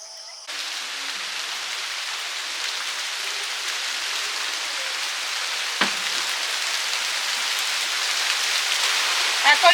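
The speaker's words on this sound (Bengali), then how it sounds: "এখন বৃষ্টি চলে এসছে" Heavy night rain shower pouring steadily on surfaces, a dense continuous hiss that grows slightly louder toward the end, with one brief knock partway through and no voices.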